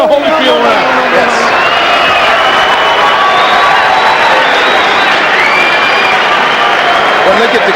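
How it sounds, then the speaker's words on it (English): A boxing crowd roars and cheers continuously at the Evander Holyfield vs John Ruiz heavyweight fight, a dense, loud wall of shouting and whoops sustained throughout, with faint commentary underneath. "Well, look at the crowd. They're going nuts."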